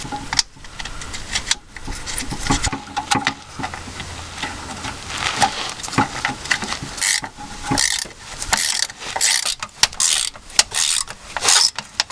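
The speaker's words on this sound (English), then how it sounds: "So I'm going to try raising the jack up just a little bit, see if that'll help align the bolts." A mechanical jack is ratcheted upward under a Jeep Cherokee during a transmission mount replacement, giving a series of short clicking and clanking strokes with metallic knocks, close by and fairly loud, with no talking.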